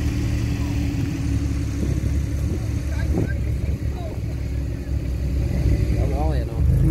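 Porsche engines idle at a car meet in a co-op car park, making a steady, loud low rumble that runs throughout, with voices and crowd noise mixed in.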